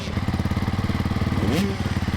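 A 2025 Honda CRF450R dirt bike engine runs on a motocross track, a close, steady pulsing four-stroke beat with a brief rise in pitch near the end.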